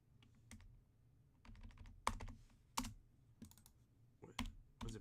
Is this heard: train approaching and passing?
no